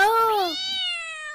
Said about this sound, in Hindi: मम्मा वो बिल्ली बोल रही है मुझे भी खिला दो।